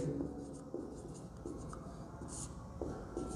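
A pen writes a handwritten math solution on paper, soft scratchy strokes in short bursts with small pauses, close and quiet, no talking.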